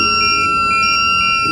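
On a ship's bridge after a power changeover, an electronic alarm sounds as continuous high steady tones over a low background hum, loud and close, with no talk.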